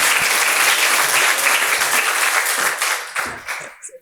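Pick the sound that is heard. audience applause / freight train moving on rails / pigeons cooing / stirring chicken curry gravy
audience applause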